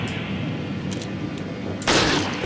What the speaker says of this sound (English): let's try to get a sniper rifle shot on his back here